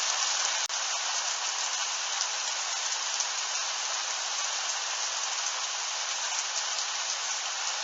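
Heavy rain from a thunderstorm in Tour-en-Sologne, France, pours down in a dense, constant roar, loud and close, with no voices.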